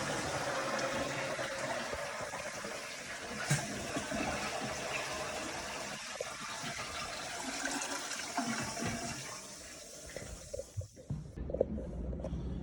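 A sink tap runs steadily after a basement flood repair to push air out of the water line, a continuous hissing rush with occasional sputters and gurgles as the flow settles.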